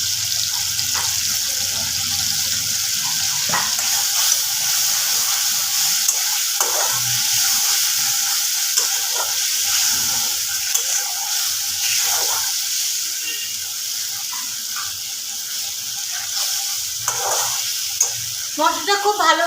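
Spices for a potato curry (aloo dum) fry in a pan, a steady close sizzle and hiss with occasional stirring scrapes and clinks throughout.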